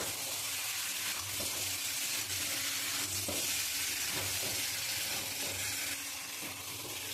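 Drumstick stems coated in mustard-poppy paste sauté in a pan, a soft, steady sizzle with intermittent scraping and stirring sounds, fairly close and moderately quiet.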